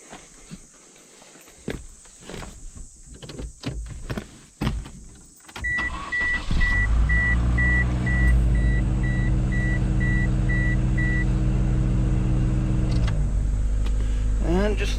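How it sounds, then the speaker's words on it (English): After a few seconds of clicks, footsteps and door handling, a small car on a high mountain road starts and settles into a steady, close idle with a low even hum and a faint whine. A voice briefly speaks near the start. "We'll let the little car sit here and idle for a few minutes"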